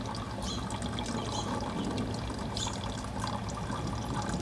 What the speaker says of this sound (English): I usually squeeze it a little bit to help increase its